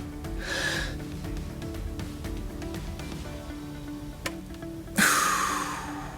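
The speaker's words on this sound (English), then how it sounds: "Now take a deep breath and hold it for 5 seconds" A soft breath early on, then a sudden, louder deep inhale later that trails off, heard over a steady low background hum with no talking.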